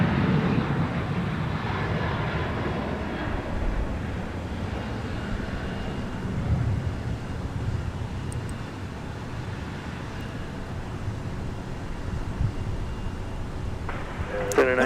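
A Sun Country jet departing Minneapolis–St. Paul airport, a continuous broad rumbling roar of engines heard from a distance, steady throughout with a faint tonal whine layered on top.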